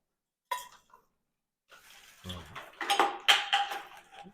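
Clattering and knocking of hard plant pots being shuffled and moved around, a brief clink first, then a busier stretch of rummaging.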